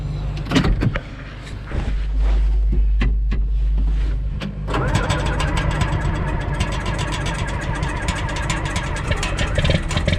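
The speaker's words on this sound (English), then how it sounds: "But we'll start the tractor and we'll lower the auger down a little bit." A John Deere 4430 tractor's engine cranks with a whirring starter, then catches and settles into a loud, steady diesel idle close by.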